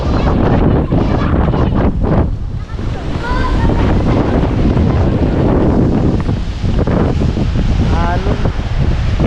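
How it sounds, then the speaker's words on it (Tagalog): Strong sea waves surge and crash under heavy gusting wind, with loud, continuous roaring surf and buffeting microphone wind noise throughout, while a few voices speak faintly in the background. "Malakas ang alon."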